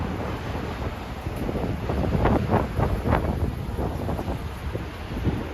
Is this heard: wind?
yes